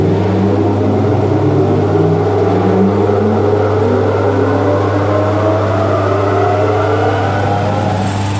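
A washed Moroccan rug tumbles in a spin dryer, giving a loud, steady motor hum with a low drone and constant whirring that runs unbroken throughout.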